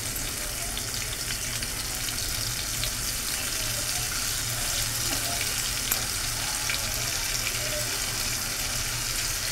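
Spice paste of cumin, turmeric, salt, chopped tomato and ginger sizzling in a pan for a rupchanda fish curry, a loud continuous hiss and crackle that stays even throughout, close and without speech.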